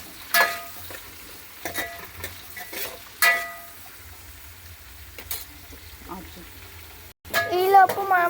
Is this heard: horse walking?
no